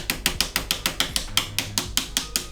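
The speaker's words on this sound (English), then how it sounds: "And of course, I just like to use a magazine." An Arcturus CAT airsoft gun body pin is tapped back into place with a magazine, giving about a dozen sharp, evenly spaced clicking knocks close up, one roughly every fifth of a second, with no talk.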